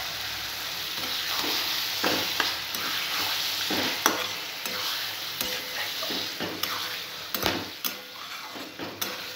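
Fish added to fried masala of chili powder, cumin powder and a pinch of sugar sizzles loudly in a pan, a steady bright frying hiss broken by repeated stirring scrapes and clinks of a utensil.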